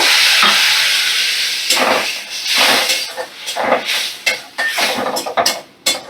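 Water is poured onto frying masala in a hot pan, setting off a loud, close rush of hissing steam and sizzle that fades unevenly, with bursts of stirring scrapes.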